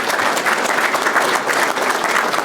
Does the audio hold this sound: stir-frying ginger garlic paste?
no